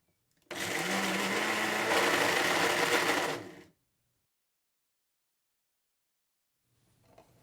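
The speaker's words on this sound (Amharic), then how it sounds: "ጤና አዳም ፍሬ፣ ነጭ ሽንኩርት፣ ዝንጅብል አንድ ላይ እንፈጫቸዋለን።" An electric grinder whirs loudly as it grinds rue seed, garlic and ginger together for Ethiopian siljo, a steady buzzing run of about three seconds that stops abruptly, followed by near silence and a faint rustle at the end.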